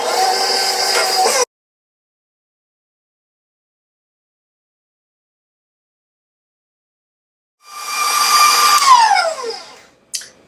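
An electric mixer beats soft butter into toffee bar cookie dough in two loud, close bursts. A short first run is followed by a long silence, then a second longer whir that trails off.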